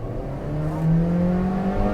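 A Toyota Innova Hycross petrol GX CVT, non-hybrid, with its 2.0-litre TNGA inline engine, revs steadily and loudly under acceleration, its drone climbing slightly and holding for about two seconds with no talk.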